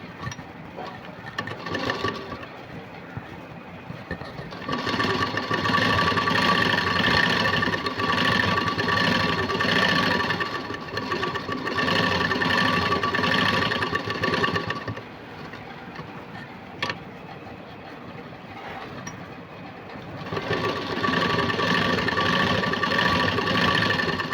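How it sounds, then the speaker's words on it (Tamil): A sewing machine stitches along the edge of a puff sleeve, running in long steady buzzing bursts of rapid needle strokes separated by brief pauses, loud and close with no talking. "இப்போ இந்த விளிம்பு பகுதியில் வச்சு ஒரு தையல் போட்டுக்கலாம்"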